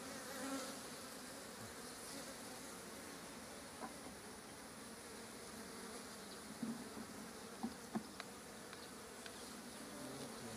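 Honey bees buzzing around a swarm at an apiary in spring, a steady, dense, fairly faint drone of many wings filling the scene, with a few brief knocks and clicks rising above it.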